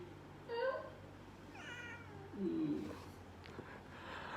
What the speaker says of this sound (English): Say hi to my cat.